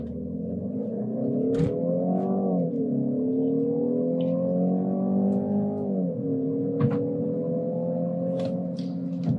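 Mercedes-Benz C200 2023 with electric assist launching hard from a standstill, a steady, loud engine drone rising and shifting in pitch as it accelerates, with small clicks and knocks over the continuous engine note.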